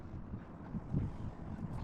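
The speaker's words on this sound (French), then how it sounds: "Il y a un petit peu de vent qui se lève" Wind gusts outdoors on a sailboat, buffeting the microphone with low rumbling bursts that rise and fall over a soft background, with no talk.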